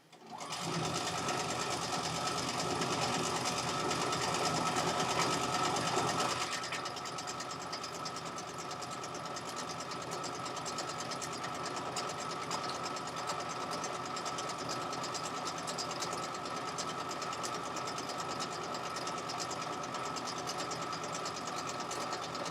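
A sewing machine runs steadily as it stitches fabric, a close continuous whirring hum with a rapid mechanical chatter that eases slightly in pitch and loudness after a few seconds, heard alone for over twenty seconds.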